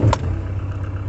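A 2010 Ford Transit Mk7 van engine idles close by with a steady low rumble and a brief higher burst at the very start, lasting only about a second.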